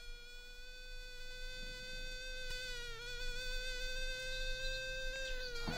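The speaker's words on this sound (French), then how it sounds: "C'est pas un moustique, c'est une sirphe." A hoverfly buzzes close by in a steady, high, whining drone that wavers slightly in pitch for several seconds.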